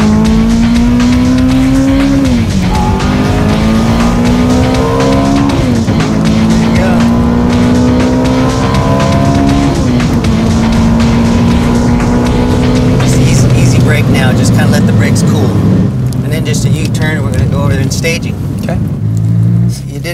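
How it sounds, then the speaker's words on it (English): Ferrari F430 at very high speed on a track, its engine roaring loud and close with rising and dropping pitch through gear changes, wind and road noise building toward the end. "I took a test run in one of the slower cars, a Ferrari F430, which tops out at just under 200 miles an hour."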